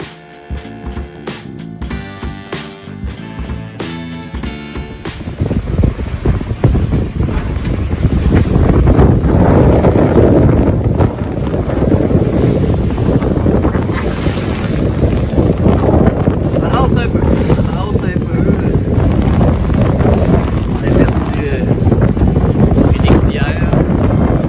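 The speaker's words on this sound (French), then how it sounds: "ici, c'est des rafales de sable" Strong wind gusts blow sand across a beach: a loud, steady broadband roar with microphone buffeting that rises sharply after a brief opening stretch of a different, tonal sound and stays heavy to the end.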